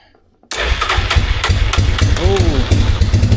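A 4x4 ATV engine cranks and catches abruptly, then runs loud and close with a rough, uneven idle, with the choke pulled.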